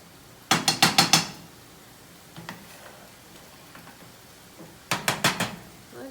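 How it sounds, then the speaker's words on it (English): Vegetables with pesto are sautéed in a pan. Two quick bursts of about five metallic clicks of a utensil against the pan come at the start and near the end, with a few lighter taps in between over quiet background. "I'm just going to continue to saute these a little bit more."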